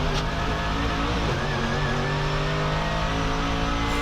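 Mercedes GT3 race car engine at full throttle at the Nürburgring, chasing an Audi R8 GT3, a loud, sustained in-car roar with rising revs.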